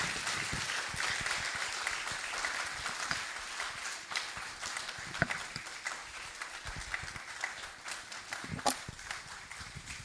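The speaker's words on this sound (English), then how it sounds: "A resounding round of applause again for Professor Odame Phillips" Audience applause following a presentation at a postgraduate conference, a continuous patter of many hands of moderate loudness with a few sharper individual claps standing out, fading somewhat toward the end.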